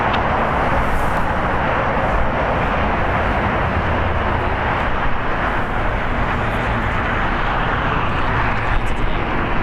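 A 19-year-old JetBlue Airbus A320 departs LAX, its jet engines holding a loud, steady broadband roar that stays close and constant throughout.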